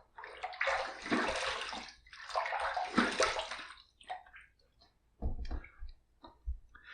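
A twin-handle safety razor is rinsed under running water after a shave pass, with two long rushing bursts of water followed by shorter splashes and taps, close by and without talk.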